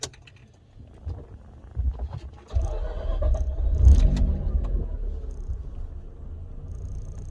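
A Mazda RX-8 rotary engine with a new tune cranks briefly, fires and settles into a steady idle, close up, after a quiet start with small clicks.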